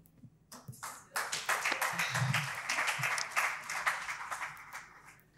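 An audience at an international congress on families and couples breaking into applause, a burst of dense clapping from many hands that rises quickly, holds steadily and tapers off, moderately near.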